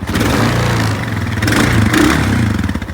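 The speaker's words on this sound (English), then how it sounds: "Going from drive to neutral, we got a jam. Now, see, it's stuck in gear. It's actually slipping." A Honda motorcycle with a DCT automatic transmission runs loud and close, its engine droning steadily with a rough, clattering edge while the jammed gearbox slips in gear.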